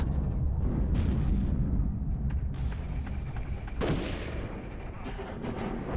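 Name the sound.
cannon fire in the video game Iron Harvest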